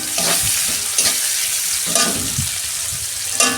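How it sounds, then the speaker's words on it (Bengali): Onion frying in hot oil in a kadai, with a little salt added, for a Bengali doi potol dish: a loud, continuous sizzle broken by clattering stirring strokes, heard close up with no talk. "তেল দিচ্ছি কড়া। এই যে পেঁয়াজ দিচ্ছি।"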